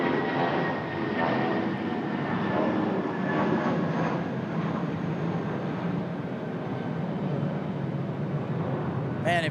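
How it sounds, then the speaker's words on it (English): A departing airliner climbs out from the runway at Raleigh-Durham airport, a loud, steady jet roar holding near and continuous throughout. "Absolutely phenomenal sounding departures here this afternoon"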